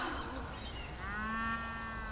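A single cow moos in a drawn-out, tonal low call heard at moderate distance in a rural countryside setting, with no talking.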